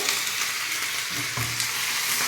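Cumin seeds sizzle in hot oil in a small home pan while tempering for lunch: a steady, close crackling hiss that runs the whole time, with a brief stir partway through.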